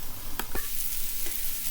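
Cabbage and noodles frying in a pan for haluski, a steady close sizzle with a few sharp clicks of a utensil scraping and stirring early on.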